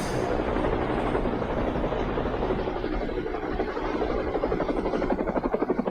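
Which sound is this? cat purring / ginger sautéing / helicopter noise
helicopter noise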